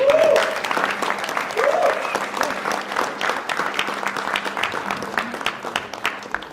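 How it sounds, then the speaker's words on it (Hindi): Audience applause fills a hall at the close of a Hindi stage play in Delhi, steady dense clapping with a few voices and whistles rising over it, then thinning slightly toward the end. "जोरदार तालियां बजाएं।"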